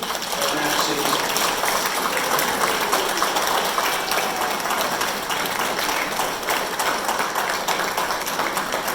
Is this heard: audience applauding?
yes